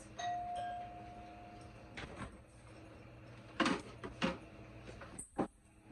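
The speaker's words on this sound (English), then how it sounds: "I heard the doorbell ring. Did you hear that?" A faint doorbell chime rings once through a steady background hum, followed by a few soft clunks and knocks.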